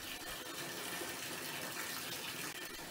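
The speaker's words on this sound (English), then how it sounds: "Push that button down and let the water come out of the shower hose for 10 to 15 seconds." Water gushes steadily from the shower hose of a Mira Advance ATL thermostatic shower during priming. The flow is close, constant and fairly loud, with no talking.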